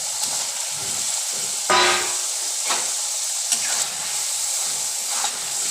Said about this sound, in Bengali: এবার আমি ভেজে রাখা আলুগুলো এর মধ্যে দিয়ে দেব